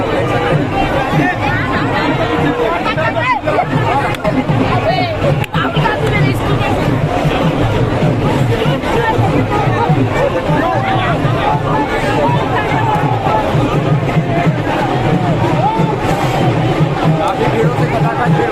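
A large, packed crowd gathers at Rahul Gandhi's Bharat Jodo Nyay Yatra rally in Raigarh, making a dense, constant babble of many voices that stays loud and close throughout.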